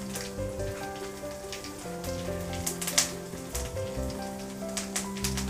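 Red chilies and curry leaves frying in hot oil, giving a steady close sizzle with crackles and small pops throughout, under faint background music.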